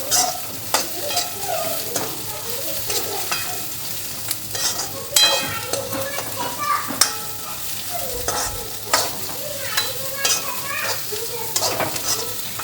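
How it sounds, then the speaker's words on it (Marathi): Bottle gourd and onions frying in a pan for sambar, stirred with steady scraping strokes over a continuous bright sizzle, close and fairly loud, with no voices. "दुधीला पण 5 मिनिटं कांद्यासोबत फ्राय करून घेते."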